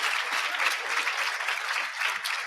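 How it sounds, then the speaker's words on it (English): An audience at a college 25th anniversary celebration claps steadily, a full, even burst of applause from a crowd of people. "Yeah, that needs to be applauded."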